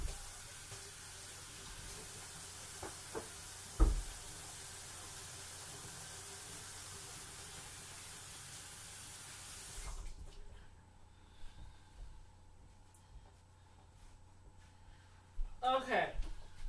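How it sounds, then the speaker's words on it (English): Tap water runs steadily into a sink during handwashing, a broad continuous hiss for several seconds that stops abruptly, followed by quieter handling clatter near the end. "I'll let you know after I wash my hands"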